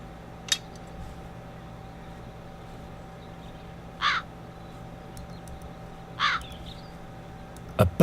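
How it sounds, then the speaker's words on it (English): Crows caw in the video game The Dark Eye: Chains of Satinav, with a few separate calls spread out over a steady low background hum and no talk. "You'd better start catching those crows."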